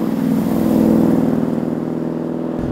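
Holden Commodore VF Series 2 V8 fitted with a performance camshaft accelerating, a loud, close engine note with a lumpy pulsing rumble that rises and holds before easing off.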